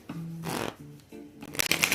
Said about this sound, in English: Let me make sure I shuffle the deck.